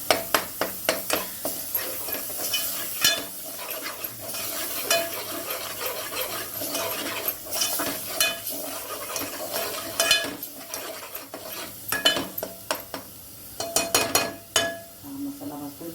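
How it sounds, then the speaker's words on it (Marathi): Kolhapuri masala with turmeric and red chilli powder roasts in hot oil in a pan, quiet sizzling under repeated scraping and clinking stirs, with a voice talking over it. "हा मसाला भाजतो"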